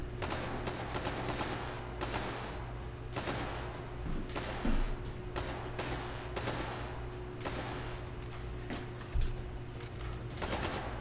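Rapid bursts of gunfire in the VR shooter game H3VR, repeated sharp reports in quick irregular volleys over a steady low hum, moderately close and continuing throughout.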